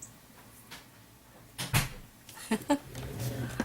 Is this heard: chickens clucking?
no